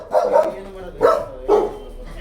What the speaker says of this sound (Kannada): ನಾಯಿಗಳು.